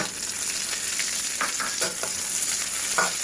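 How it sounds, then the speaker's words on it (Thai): Thai garlic and chili stir-fried in hot oil for a kale and salted fish dish, a steady close sizzle with scattered clinks and scrapes of stirring, no voices. "ตอนนี้ก็ตั้งน้ำมันร้อนแล้วนะคะ เราก็ลงกระเทียมเลยค่ะ ผัดให้กระเทียมหอมเหลืองเลยนะคะ"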